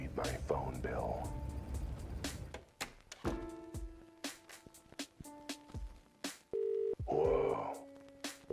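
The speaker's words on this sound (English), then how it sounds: "There's a dial tone." A steady telephone dial tone in the Cat Detective Albert Wilde game, heard as brief held tones after a receiver is picked up, with a voice talking around it.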